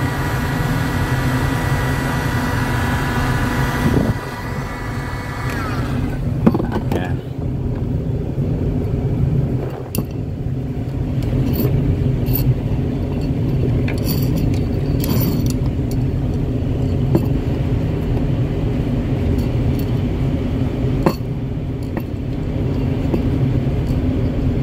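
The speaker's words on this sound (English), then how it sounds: "So, ito na yung heat gun." A heat gun runs as a steady whirring roar with an underlying tonal hum. Its pitch shifts after a few seconds, and a few faint clicks sit over the constant blowing noise. No voices are heard.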